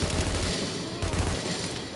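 Gunfire rattles on through the shooter video game The Division, a dense, loud burst of overlapping shots that fills the whole moment without pause.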